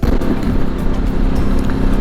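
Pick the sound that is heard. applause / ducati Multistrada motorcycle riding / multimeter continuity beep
ducati Multistrada motorcycle riding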